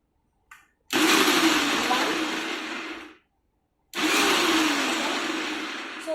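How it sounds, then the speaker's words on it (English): Preethi Peppy Pro mixer grinder with its chopper jar pulsing onion: two loud, steady motor whirs of about two seconds each, separated by a short silence, with a brief click before the first. "So in 2 pulses it's almost done."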